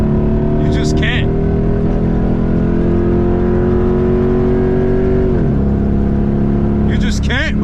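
A Jeep SRT8 V8 roars loudly from inside the cabin while driving, holding a deep, steady engine drone with a slight pitch shift midway and a few brief tire or gear chirps over it, with no voices.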